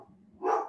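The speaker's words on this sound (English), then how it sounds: "how loud is my dog in the background? We can hear the dog" A single short, muffled bark from a dog in the background of a home online meeting, moderately loud and alone.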